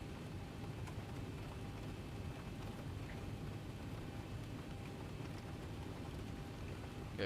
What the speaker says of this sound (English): I just enjoy the sound of rain.